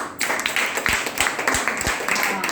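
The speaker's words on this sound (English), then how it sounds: "give them a big clap" A group of children clap in a training-session classroom, a run of quick, uneven claps close by with people talking over them.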